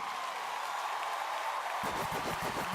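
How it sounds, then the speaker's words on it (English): An audience claps throughout, a steady bed of applause that thickens near the end as a voice starts over it. "Y'all keep clapping for that."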